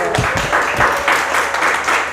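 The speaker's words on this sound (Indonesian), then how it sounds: "Ya, silakan tepuk tangan." A classroom applauds a presenting student group, with a brief scatter of clapping mixed with murmuring voices and a teacher talking over it.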